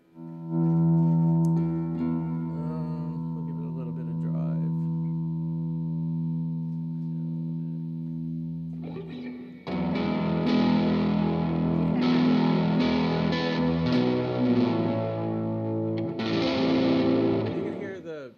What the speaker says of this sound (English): You can get it almost to a distortion, or you can turn that down, back it off a little bit. It's a rocky sound.